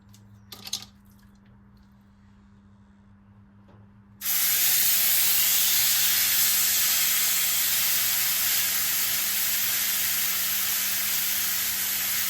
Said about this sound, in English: So now I'm going to sear the beef first.